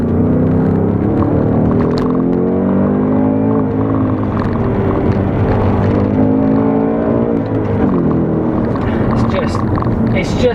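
A 2019 Ford Mustang Bullitt engine accelerating: a steady, droning V8-type tone with a pitch sweep late on, heard from inside the car while a person talks over it.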